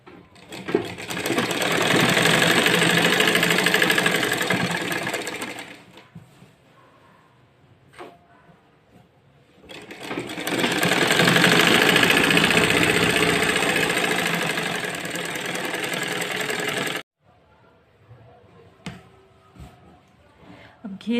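A sewing machine stitches the front body of a designer kurti in two loud, steady bursts of about six seconds each, with a quiet pause between them and faint handling sounds afterward.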